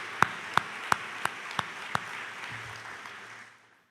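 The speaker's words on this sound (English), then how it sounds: "Let's give her a round of applause." An audience at a 2019 divisional meeting gives a short round of applause for a newly introduced professor, a modest crowd clapping with a few distinct loud claps on top, fading out after about three seconds.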